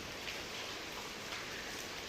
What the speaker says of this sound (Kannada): ನೋಡಿ ಇಲ್ಲಿ ಮಳೆ ಬರ್ತಿದೆ ನೋಡಿ